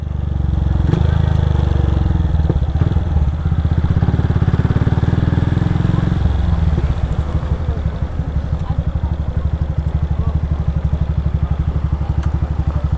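A Honda CG Start 160 motorcycle with a loud aftermarket exhaust rumbles and revs close by, a heavy, throbbing engine note that holds steady, then drops back to a choppy, pulsing idle.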